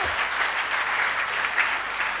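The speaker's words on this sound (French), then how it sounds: "Applaudissons fort" Church congregation applauding loudly during a pastor's sermon, a thick continuous patter of many hands, close and even throughout with no speech on top.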